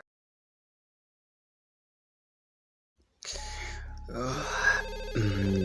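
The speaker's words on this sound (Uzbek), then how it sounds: "Kimni telefon jiringlayapti?" A telephone rings at night, bursting in after about three seconds of silence and trilling close and fairly loud, with vocal sounds mixed into the ringing.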